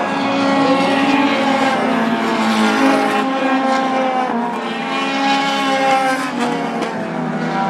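Race cars at Wiscasset Speedway roar past in a continuous loud, droning engine note that swells and fades slightly as the pack circles the track.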